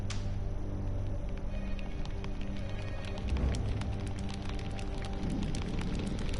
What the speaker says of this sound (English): On cue, a shower of rain tumbles over them.